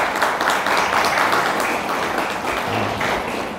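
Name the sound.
audience clapping for a birthday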